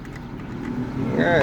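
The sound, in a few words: car air conditioning blower running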